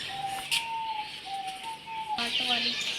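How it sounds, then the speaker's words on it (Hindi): A pigeon held in someone's hands gives soft cooing and whistle-like tones close by, a few short calls rising and falling, with a brief rustle partway through. "मुबीन देखो कितना प्यारा कबूतर पकड़ा हमने"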